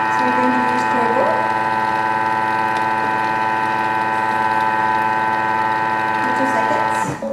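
Thermomix mixer whirring steadily at turbo speed while spinning sticky butter-cookie dough, a loud continuous motor drone with a strong tonal hum that holds for about seven seconds, then cuts off abruptly.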